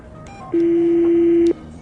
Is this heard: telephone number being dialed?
yes